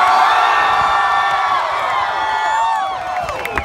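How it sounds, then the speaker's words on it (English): A loud rally crowd in Austin, Texas cheers and whoops continuously, a dense roar of many voices with high shouts and whistles rising above it, holding steady before easing slightly at the end. "It is a loud crowd."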